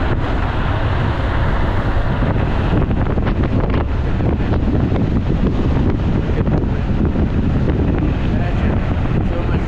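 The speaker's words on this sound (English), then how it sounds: "Imagine so much wind." Strong, steady wind roars across an open microphone during a fast spring ride on a Teverun Fighter Supreme Ultra 72V electric scooter at speed near rocks, a loud continuous buffeting low rush that fills the whole stretch.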